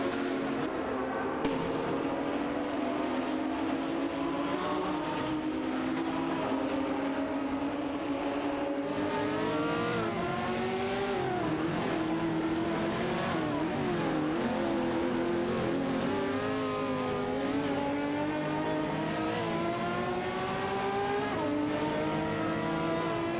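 A Ferrari 512S and a Porsche race car dueling in a video game race, engines droning steadily with rising and falling revs as gears shift, continuous and moderately loud with no voices.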